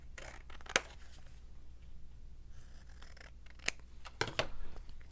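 Scissors snipping paper for a handmade Bible study journal, a few sharp isolated cuts close by with quiet pauses between, one near the start and a couple toward the end.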